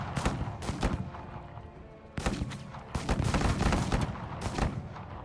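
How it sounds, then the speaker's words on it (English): Marines' gunfire in the video game Menace: repeated bursts of shots, with sharp cracks around the two- and three-second marks, then a steady volley to the end, fairly loud and with no talking over it. "Keep gunning these guys down"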